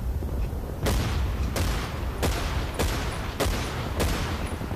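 Gunfire from the video game Battlefield 1943 on the Guadalcanal map comes as six sharp, evenly spaced shots about two-thirds of a second apart, each a loud crack over a constant low rumble of battle.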